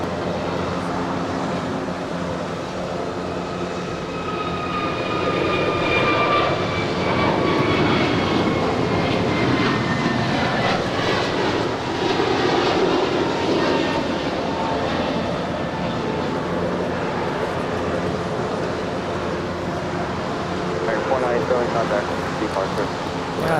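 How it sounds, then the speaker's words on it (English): A Southwest Boeing 737-700 lands on the south side at LAX, its engine roar steady and fairly loud throughout, with people talking over it. "It's a 737-700 landing here on the south side."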